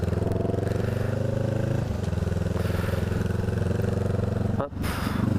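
A Honda CMX 500 Rebel, the custom derivative of the CB500F with the new engine, runs steadily with a close, continuous low idle drone, a brief dip near the end.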